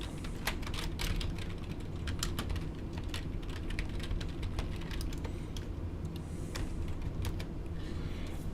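Typing on a computer keyboard: a steady patter of keystrokes, some sharper and louder than others, over a constant low hum, with no voices.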